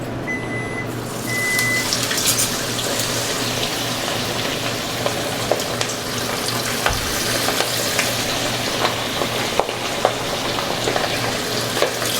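Samchen sizzles steadily in hot oil for an Indonesian festival meal, a dense close crackle broken by occasional scraping and tapping of a utensil in the pan, with a few brief beeps early on.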